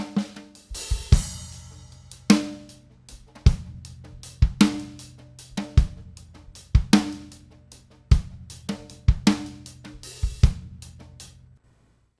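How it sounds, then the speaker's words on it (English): Stereo drum recording of a steady groove: punchy kick and snare hits with cymbals repeating in an even rhythm for about twelve seconds, loud and close, then stopping. "I'm going to be working with the stereo sound file of a drum recording."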